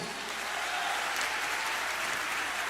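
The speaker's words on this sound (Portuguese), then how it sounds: "você pode aplaudir Jesus mais forte?" A church audience applauds for Jesus in a Portuguese-language testimony service, a continuous wash of dense clapping, steady and moderately distant, with no break across the short span.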